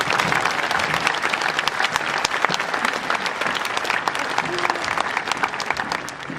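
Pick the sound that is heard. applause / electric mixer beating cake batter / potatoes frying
applause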